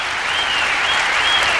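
A large arena crowd at the 1994 Lillehammer Olympic ladies' free skate applauds in a steady, dense wash of clapping, loud and continuous with no pauses.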